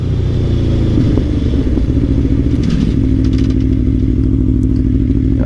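An Aprilia Tuono V4 Factory motorcycle is ridden on a summer road, its engine giving a loud, steady low rumble with wind buffeting and occasional clatter throughout.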